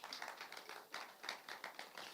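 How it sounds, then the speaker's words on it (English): An audience at a business workshop applauds a speaker with steady, dense clapping from many hands. It is fairly faint and sounds a little distant, with no voices over it. "let's clap hands for Nyari Moyo"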